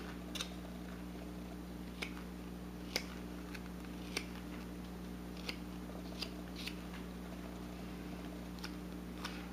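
A carving knife trims back the brim of a small wooden miniature hat, giving sharp, isolated snipping clicks about once a second over a steady low hum, close and quiet.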